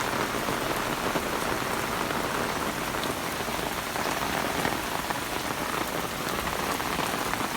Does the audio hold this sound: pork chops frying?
no